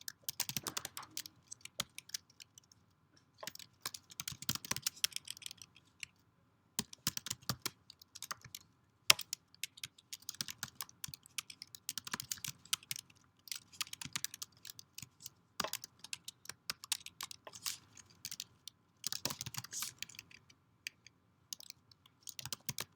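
Code typed on a computer keyboard, with rapid, close key clicks arriving in irregular bursts and short pauses, no voices.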